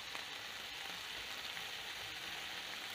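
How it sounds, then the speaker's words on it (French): Pork pieces browning on all sides in a hot pan, a steady, even hiss of frying heard up close and alone, with no voices. "On va les faire dorer sur tous les côtés."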